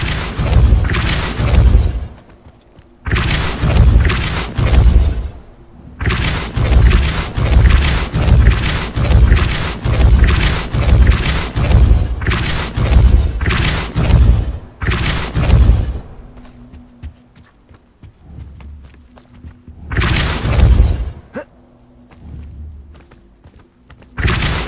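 Depulso force-push spell impacts in Hogwarts Legacy land as a long series of heavy, booming thuds, clustered in dense rapid runs, then a gap before a final loud burst.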